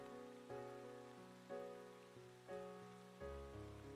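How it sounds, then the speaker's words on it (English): Soft, steady rain patters quietly in the background of a cozy rainy-day scene, while gentle piano-like tones ring out in slow, evenly spaced notes above it. "Now these days I really like the sound of rain."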